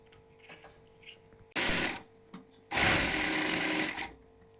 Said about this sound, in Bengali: এই তিনটে সেলাই করে নেবো